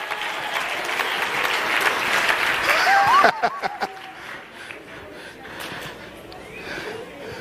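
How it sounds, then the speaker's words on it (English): A sermon congregation claps loudly for about three seconds, then the applause breaks off into a few scattered claps and murmurs from the crowd. "Clap your hand if you understand what I just said."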